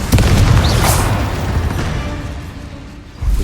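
A Confringo blasting spell explodes in Hogwarts Legacy with a loud, close boom that rolls into a fading rumble, followed by a sharp second impact at the very end, with no talking.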